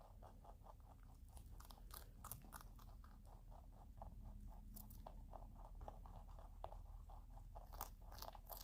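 Close, quiet crunching of pet rabbits eating breakfast, a steady run of crisp bites and chews, rhythmic and repeated, with no one talking.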